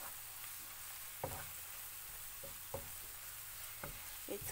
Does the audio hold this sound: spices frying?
yes